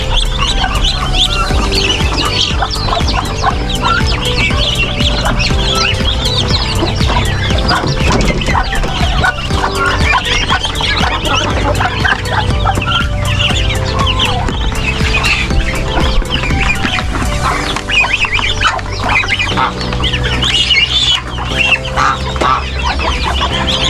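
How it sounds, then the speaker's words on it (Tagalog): Chicks and hens cluck and peep continuously in a dense, loud chorus inside a laying coop, with many overlapping close and distant calls throughout. "Yan po, masisigla na po yung mga sisiw."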